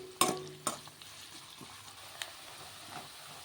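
Onions frying in oil in a pan for an Andhra-style raw banana fry: two sharp clattering stirs at the start, then a soft, low sizzle continues alone.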